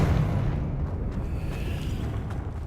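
Explosive Confringo and Bombarda spell blasts in the game Hogwarts Legacy, a heavy low rumbling boom that fades slowly.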